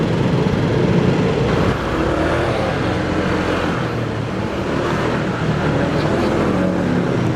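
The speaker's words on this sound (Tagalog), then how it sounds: "Parang galit na naman mga idol yung hatak ng motor ko." A motorcycle engine on an afternoon ride from Quezon City toward San Jose del Monte, Bulacan, drones steadily and loudly throughout with continuous road and wind rumble, no clear breaks.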